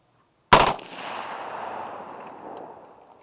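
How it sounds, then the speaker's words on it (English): A suppressed gun fitted with a laser hand stop fires a single short, rapid burst that ends abruptly, loud and close, followed by a long fading echo. "we're going to shoot three mags through this gun"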